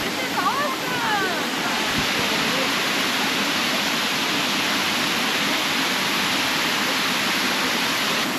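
Phu Pha Sawan Waterfall in Thailand roars as a steady, loud, broadband rush of falling water that fills the whole scene without a break, with a brief voice near the start.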